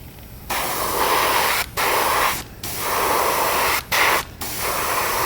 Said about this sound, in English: Now we're going to shoot from the spine down and let the overspray come down the sides